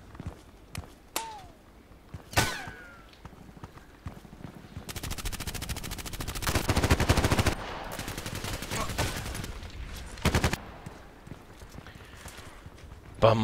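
Bursts of RPKT machine gun fire in the online shooter Contract Wars, with sharp single shots early on, then long rapid automatic volleys mid-clip and a few later cracks, loud and close.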